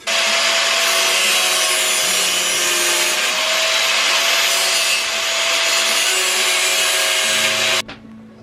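A plastic halo LED ring stand-off is trimmed down with a power tool, a loud continuous whining, grinding buzz close by that holds steady for several seconds and then cuts off abruptly near the end.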